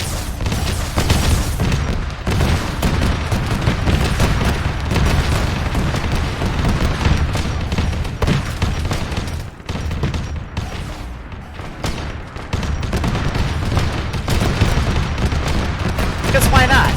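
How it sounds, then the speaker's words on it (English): Continuous artillery fire and explosions from an Arma 3 battle featuring Rhino and Vindicator vehicles, dense overlapping booms and gunfire rumbling without pause, loud and heavy, with a voice talking over the chaos. "I'm just gonna let it kind of rando fire. But you know, a lot of explosions, a lot of insanity."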